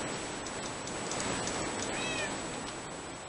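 A cat mob in the modded Minecraft Crazycraft game gives a single short, clear meow partway through, over a steady bed of game background noise.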